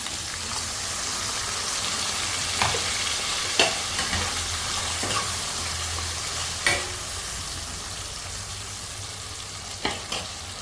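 Chicken frying in a pan as ground spice paste is added, a continuous close sizzle with occasional scrapes and clinks of a spatula stirring, no voices.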